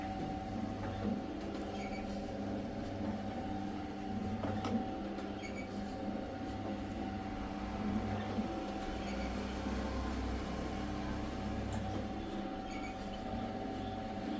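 A box-type chapati making machine runs in a live demonstration, giving a steady mechanical hum with a faint whine and occasional clicks and knocks, fairly quiet and without speech.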